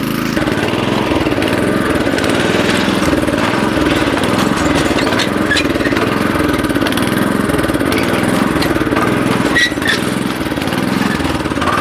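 A walk-behind tractor engine drones loud and close with a steady, throbbing chug as it maneuvers and turns around during haymaking. It runs continuously without a break.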